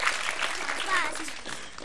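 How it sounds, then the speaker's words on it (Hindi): An audience claps at a Patanjali Gurukulam school event in India, producing steady applause that runs through the whole moment while voices carry on underneath. "जोरदार ताली बजाओ"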